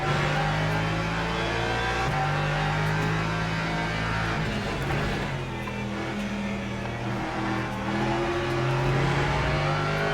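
Race cars, including LMP2 prototypes, lap the Barcelona circuit in the Le Mans Ultimate sim racing game, engines holding steady loud drones with rising and falling pitch as cars close in and pass during a four-hour ELMS race.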